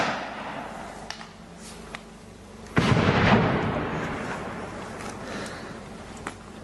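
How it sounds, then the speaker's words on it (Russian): A single sharp gunshot fired upward into the air outdoors, a loud crack about midway that rolls off into a long fading echo over quiet background noise, with small pops before and after. "Вверх будет стрелять."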